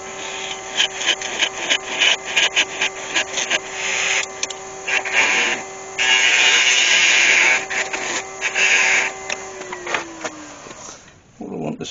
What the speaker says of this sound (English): All I have in there is a scrap piece of wood and all I need to do, put a small hole in there